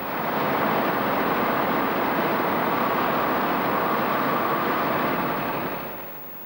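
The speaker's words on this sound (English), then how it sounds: "After correcting the level with rotating paddles, the concrete is fully compacted by a vibrating beam." A concrete paving machine compacts fresh concrete with a vibrating beam, producing a loud, steady mechanical roar that holds constant before easing off slightly at the end.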